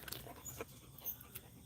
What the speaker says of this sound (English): All the dogs over here.